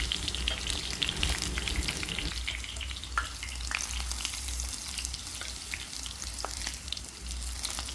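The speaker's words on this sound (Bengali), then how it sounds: "পটলগুলোকে ভালো করে ভেজে নেব লাল লাল করে।" Pieces of pointed gourd fry in hot oil with a steady, dense sizzle throughout, crackling softly at close range with no voices over it.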